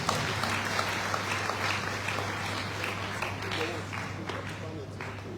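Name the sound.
audience applause for speaker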